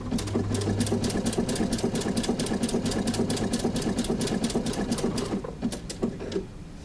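Sewing machine stitching steadily, a fast rhythmic mechanical whirring and needle clatter running for about six seconds before slowing and stopping, close and fairly loud.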